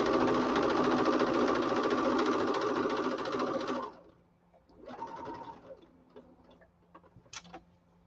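A sewing machine stitches fabric in a fast, rattling run lasting about four seconds, then stops; a shorter, quieter burst of stitching and a few faint ticks and clicks follow.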